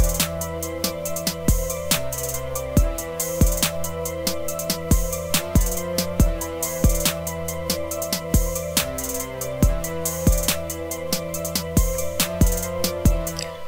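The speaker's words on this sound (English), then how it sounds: "this is the brass support for the melody" Brass support line layered over a trap beat built in LMMS, sharp rhythmic hits and sustained tones repeating in a steady loop, loud and busy throughout with no speech.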